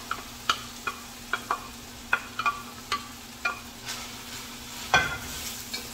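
Chopped onion sizzles in a pan with browned meat, and a utensil stirs it in sharp, irregular scrapes and clacks over a soft, steady frying hiss.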